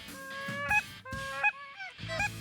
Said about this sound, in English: we finally started to hear the honks from the geese getting louder